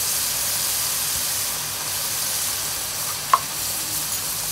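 Turmeric and ginger-garlic paste sautéing in hot oil make a constant close sizzling hiss, with one brief sharp click from a utensil partway through and no talk.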